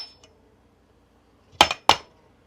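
Two sharp clanks of a utensil striking a bowl while sauerkraut salad with pimento, peppers and onion is being mixed, close by, after a near-silent start with a faint tap.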